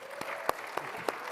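Audience applause at a TLC press conference at CES 2024, a thin, faint scatter of claps with a few sharper individual hits.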